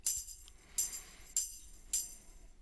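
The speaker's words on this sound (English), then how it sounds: "We have a tambourine." Four crisp jingling shakes of a tambourine, evenly spaced, bright and close, with quiet gaps between them.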